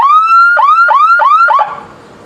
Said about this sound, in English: And that's what the warble sound does.